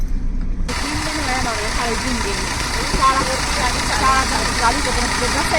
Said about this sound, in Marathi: आम्हाला टू व्हीलर चालवून दाखवते